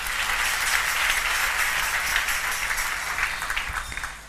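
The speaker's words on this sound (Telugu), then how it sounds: "మీరు చప్పట్లు కొట్టండి." An audience claps together in a church hall setting, a steady, dense and fairly loud round of applause that fades slightly at the end.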